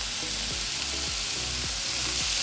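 Steak pinwheels stuffed with cheese searing in a hot pan, a loud continuous hiss and crackle of sizzling fat holding steady throughout with no talk.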